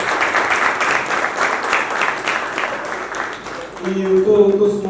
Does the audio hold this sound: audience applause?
yes